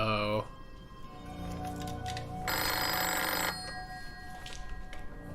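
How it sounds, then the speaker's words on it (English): A telephone bell rings in the TV drama Life on Mars, a sharp ringing burst at the start followed by a low background of music and voices. "That phone ain't actually ringing."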